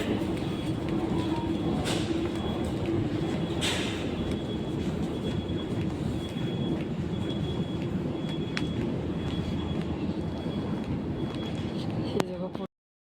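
Metro train pulling into a station, a steady rumbling roar with rising whine and occasional squeals lasting throughout, moderately loud, ending abruptly.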